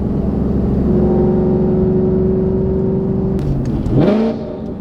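A supercharged car fitted with a Corsa Xtreme cat-back exhaust, valves opened in sport mode, holds a loud steady rev before dropping off and blipping sharply back up, close and alone without talk.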